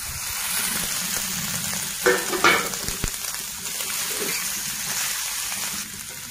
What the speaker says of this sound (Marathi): आता आपण उकडून घेतलेले बटाटे टाकून घेऊ.